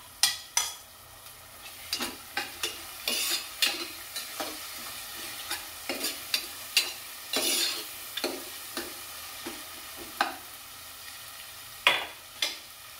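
Tomatoes go into a pan of frying onion, green chili, peanuts and curry leaves, with loud sizzling and repeated scraping stirs of a spatula against the pan, sharp strokes in an uneven rhythm, close up, no talking.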